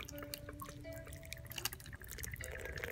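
Water poured to rinse a teapot during a Chinese gongfu tea ceremony, faint trickling and dripping with small splashes, continuous and close for a few seconds.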